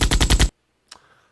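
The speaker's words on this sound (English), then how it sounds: "Player shooting. This is the gunshot sound." Video game player-shooting gunshot effect: a fast burst of about five loud automatic shots in quick rhythm, then silence and one fainter short tail sound, with no voices.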